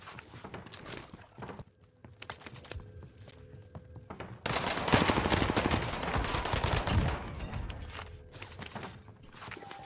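An M13 rifle in Warzone fires with no recoil, first in sparse sharp shots, then a dense loud sustained burst of rapid automatic fire in the second half.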